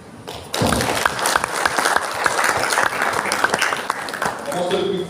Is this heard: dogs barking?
no